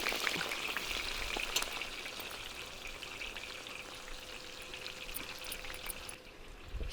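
Onion frying in oil for a Kerala-style crab curry cooked in dry roasted coconut gravy, giving a steady, dense sizzle and crackle that holds for several seconds with no voices over it.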